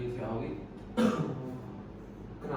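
In a role-play of an actively smoking patient, a single short, harsh cough bursts out around the midpoint, with voices talking quietly around it.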